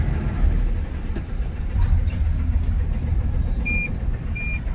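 Loud, steady rumble of heavy night traffic on the C5 road, with many trucks and cars rolling past close by in a continuous wash of engine and tire noise, a few faint high tones near the end.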